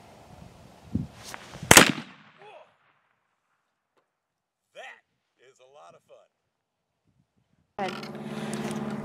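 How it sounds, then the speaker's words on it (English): Single sharp, loud blast of a slug rifle firing a 300 grain lead projectile over a 225 grain powder load, a sudden crack with short rumble, followed by quiet, a few spoken words and later wind or handling noise. "we just shot it at the first time for at a 225 grain load and a 300 grain projectile"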